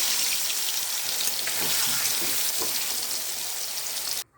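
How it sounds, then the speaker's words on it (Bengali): Paneer pieces fry lightly in hot oil in a wok, a steady close crackling sizzle with occasional pops and stirring, cutting off abruptly at the end. "এবার পনিরগুলো হালকা ভেজে নেব।"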